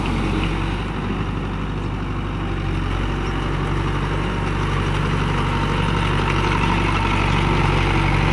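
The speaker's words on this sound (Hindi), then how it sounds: "গাড়িটা 1 নম্বর মিডিয়ামে চলছে, আর 1500 RPM।" A Mahindra 575 Tech+ 4WD tractor works a field with a rotavator in first gear at medium speed, near 1500 RPM. The engine keeps up a close, constant, heavy rumbling drone, unbroken and without speech.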